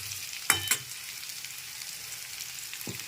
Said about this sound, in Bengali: আলু আর ফুলকপিটা খুব ভালো করে নেড়ে ভেজে নিচ্ছি